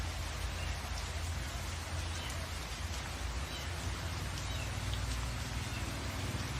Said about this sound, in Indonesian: terjadi hujan lebat.